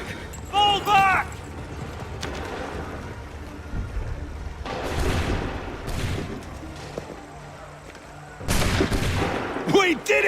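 Musket volley gunfire in Assassin's Creed 3, loud crackling fusillades in separate bursts with rumbling echoes between them, near and forceful, with shouting voices around the shots.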